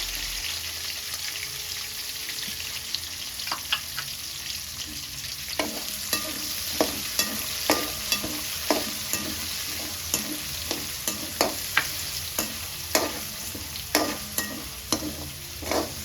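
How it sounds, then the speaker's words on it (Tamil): Onions sautéing in a pan for a crab gravy, a steady background sizzle punctuated by regular sharp clicks and scrapes of a spoon stirring against the pan, fairly close and without talk. "நல்லா வதங்கட்டும். வெங்காயம் ஓரளவு வதங்கிடுச்சு."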